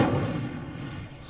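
An Incendio fire spell from a Harry Potter video game goes off as a short, loud whooshing burst that quickly fades into a lingering rumble.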